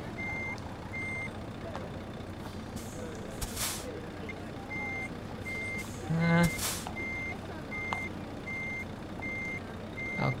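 Regular reversing beeps from a truck backing up to park in the Trucks & Trailers video game, repeating steadily over low engine rumble with a couple of air-brake hisses and some faint talk.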